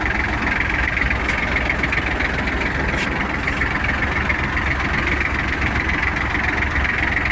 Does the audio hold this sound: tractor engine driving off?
yes